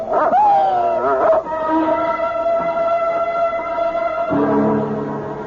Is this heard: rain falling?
no